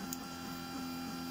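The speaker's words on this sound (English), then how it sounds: "Alright, so I'm printing the new" A printer at work on a new cover runs with a steady mechanical hum and faint, regularly repeating carriage passes, quiet and close in an indoor room.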